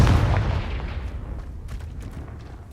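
A Confringo blasting spell explodes in Hogwarts Legacy with a loud, booming burst at the start. The rumble then fades into a lingering low tail with scattered crackles.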